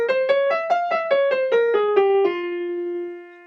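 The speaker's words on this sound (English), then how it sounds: "And one of the common minor scales is a harmonic minor." A harmonic minor scale on a piano-like instrument, about nine clear notes played one by one down the scale and ending on a sustained low note that fades out, with no talking.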